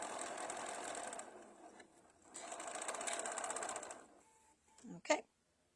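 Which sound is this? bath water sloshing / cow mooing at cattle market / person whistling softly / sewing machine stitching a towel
sewing machine stitching a towel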